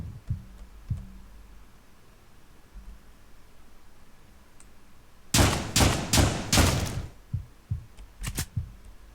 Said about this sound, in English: the shotgun's really strong